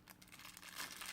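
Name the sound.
plastic bag crinkling, pulled out of styrofoam packaging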